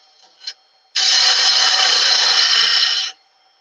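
A Crown Colwin Way signature skew chisel makes a straight-in cut on spinning wood on a lathe, a loud, steady, close hissing scrape lasting about two seconds after a brief faint tap.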